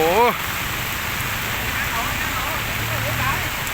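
Steady morning rain patters on a surface in a continuous hiss, with a few faint voices underneath.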